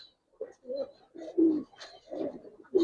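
Giribaz pigeons, a Bagha Giribaz flying breed, coo in a series of short, throaty bursts, five or six pulses with brief gaps, close and moderately loud.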